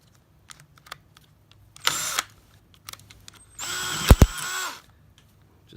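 A power drill cleans out a rivet hole in a Barcelona chair frame in two close bursts of whine, a short one and then a longer one that briefly bogs down partway, with light handling taps between them.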